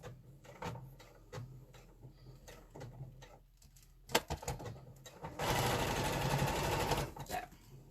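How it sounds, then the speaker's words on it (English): A domestic sewing machine runs a lock stitch on a fabric chicken pincushion, first with light ticking and handling noises, then a steady close whirring burst of stitching lasting about two seconds. "I'm just going to do a lock stitch at the gap on either side, or you can do a little backwards and forwards depending on what your machine does."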